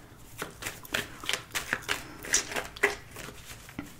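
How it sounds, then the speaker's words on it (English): A deck of playing cards is shuffled near the mic in a run of quick riffling bursts, crisp papery flutters and snaps repeating every half second or so, with no talk over it. "That's why I was shuffling."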